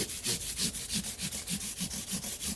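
Sandpaper rubs back and forth over the recrowned frets of a vintage Alvarez 12-string guitar, a steady rhythmic scrubbing of about a dozen close, even strokes.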